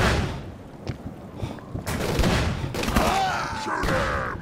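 Gunfire in the video game Call of Cthulhu: several sharp shots crack out over a dense, rumbling backdrop of game noise and echoing effects, steady and fairly loud throughout.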